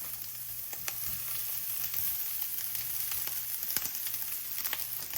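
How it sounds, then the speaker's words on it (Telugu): Cabbage, vegetables and rice sizzle steadily in a hot pan while being fried for egg fried rice, with occasional stirring scrapes over a constant crackling hiss. "రైస్ కూడా బాగా ఫ్రై అవ్వాలి"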